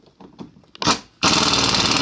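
An Astro Nano 3/8-inch air impact wrench on a lug nut: brief bursts of air, then a loud, continuous buzzing hammer that runs steadily to the end, close up.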